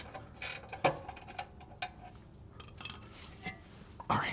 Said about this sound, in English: we're going to take this nut off that we put back on here to hold this piece